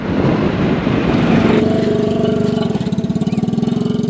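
A motorcycle engine sits at idle close by, its steady low putter loud after a short burst of rougher running, on a rest stop beside a railway line in Pakistan.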